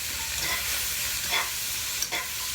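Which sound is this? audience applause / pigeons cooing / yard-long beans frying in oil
yard-long beans frying in oil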